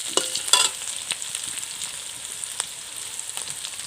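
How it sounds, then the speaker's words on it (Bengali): Green chillies frying and being stirred in a hot pan, a steady crackling sizzle with a few sharper scrapes of the spoon near the start, continuous and close with no talk. "আমি এখন দেব কাঁচা লঙ্কা কাঁচা লঙ্কা দিয়ে ভালোভাবে লাড়াচাড়া করে নেব"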